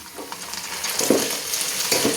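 Gobindobhog rice frying in oil for khichuri makes a continuous close sizzle, with soft scraping stirs now and then and no voices.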